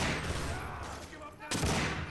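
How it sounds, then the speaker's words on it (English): Dense, continuous gunfire from a firefight in the video game Half-Life 2, loud sustained bursts filling the whole stretch with a fresh surge near the end. "What are you shooting at?"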